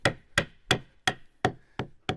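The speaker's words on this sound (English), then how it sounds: "So now I'm going to use a hammer that I already have." Hammer striking the spine of a knife to split dogwood, seven sharp, evenly spaced knocks about a third of a second apart, loud and close with quick decay.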